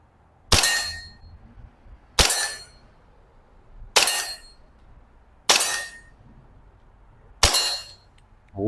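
A KJ Works M1911 CO2 BB pistol is fired at a target 10 meters away: five sharp, loud cracks come at roughly even intervals, each followed by a brief ringing tail.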